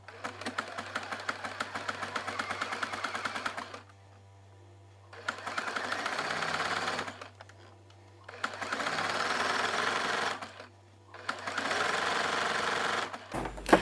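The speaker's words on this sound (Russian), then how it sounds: "Прокладываем строчку." A sewing machine runs bursts of stitching as it sews silicone elastic tape onto fabric, four steady whirring runs broken by short pauses, close and fairly quiet.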